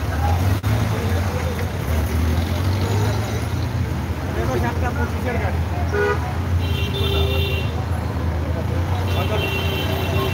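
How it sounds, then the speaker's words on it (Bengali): Traffic pours out of the main gate of a railway station in Chittagong, a steady loud roadway roar with car and bus horns tooting intermittently and voices talking throughout. "রেলওয়ে স্টেশনের প্রধান গেট দিয়ে গাড়ি বের হচ্ছে।"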